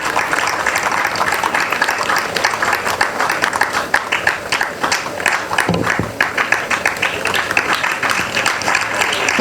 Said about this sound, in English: Let us clap for Dr. Yeboah.